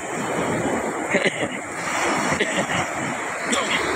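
Ocean waves still rolling after a typhoon, a steady wash of surf with wind buffeting the microphone, broad and continuous with a few slightly stronger surges.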